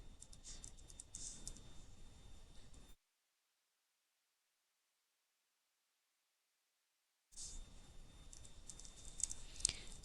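Python code being typed on a computer keyboard: quiet, close, rapid key clicks in uneven bursts, broken by a stretch of dead silence midway before the typing resumes.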